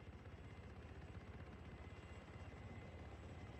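Continuous rhythmic helicopter rotor thumping from helicopters in the video game Arma 3, steady and fairly loud, with no voices.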